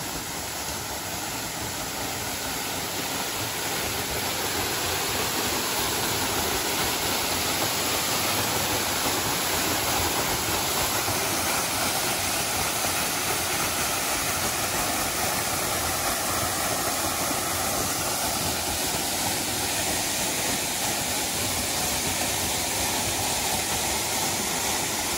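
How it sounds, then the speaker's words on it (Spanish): Waterfall on a ranch in Oaxaca, Mexico: a steady, dense broadband roar of falling water that fills the whole clip at an even, fairly close level with no voices. "qué bonita cascada, miren"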